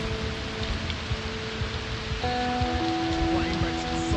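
Steady rain hiss in the game Project Zomboid, broadband and continuous, with tonal background music notes layered over it and no speech.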